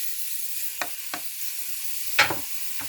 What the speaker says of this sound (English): we will start cooking our beef in intervals in our bacon grease.